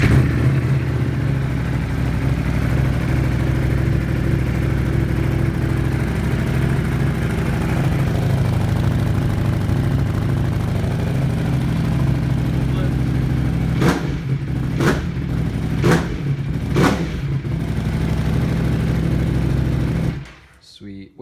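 A 2021 Ducati Panigale V4S fires up and runs, its steady engine drone holding throughout with a few sharp bursts near the end before it cuts off abruptly.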